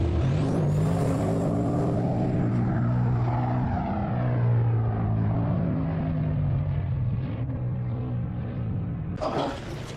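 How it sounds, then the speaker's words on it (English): A racing car engine with an airplane-like drone roars loudly and steadily close by, its pitch sweeping and falling, with a sharp burst near the end. "I've never heard a car sound so much like an airplane."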